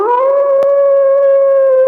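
A pet dog lets out one sustained, steady howl, a loud close tonal wail holding its pitch for about two seconds, with a brief click partway through and no talking.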